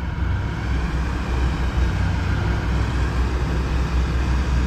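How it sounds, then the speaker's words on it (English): Vent motor of a York commercial rooftop packaged HVAC unit running, a steady broadband whooshing hum with low rumble, constant and fairly close throughout. "Vent motor started."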